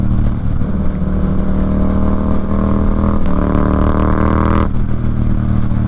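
A 2024 Yamaha MT-07 motorcycle engine under way, a loud, close, steady drone that climbs in pitch as it pulls, then drops abruptly near the end, with no talking.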